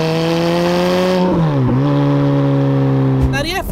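A 2005 Ferrari F430 Spider with a V8 engine and manual gearbox is heard from the cabin while driving, its engine droning steadily and loudly, dipping briefly in pitch during a gear change, then climbing again in a rev near the end.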